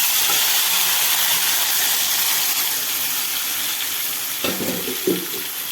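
Chicken pieces go into a simmering chicken curry, setting off a loud, steady sizzle and hiss of frying that stays close and continuous, with a few stirring clatters near the end.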